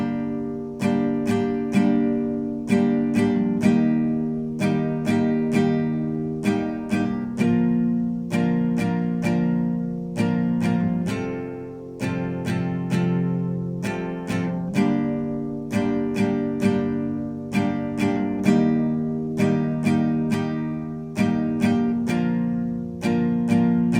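Acoustic guitar chords from the bridge of a song strummed steadily in a repeating downstroke pattern for a sustained passage, close and clear, with no voices.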